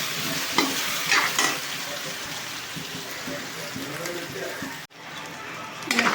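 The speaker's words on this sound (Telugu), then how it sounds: "కొంచెం రుచికి సరిపడా సాల్ట్ వేసేసుకుని కొంచెంసేపు ఫ్రై అవ్వాలి." Brinjal and potato curry frying with salt, a continuous close sizzle broken by stirring scrapes and bursts of crackling, with a brief dip near the end before it resumes.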